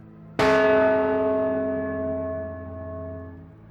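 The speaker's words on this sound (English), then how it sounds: "The sound of that bell cut right through the fog, echoing off the mountains surrounding us." A church bell gives one loud strike that rings out in fog among surrounding mountains, its rich tone slowly decaying over several seconds with no other sound.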